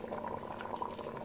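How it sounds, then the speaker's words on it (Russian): Thick homemade zucchini caviar bubbles and plops steadily in a pot on the stove, a continuous soft burbling simmer heard close up with no talk. "Она у меня добулькает"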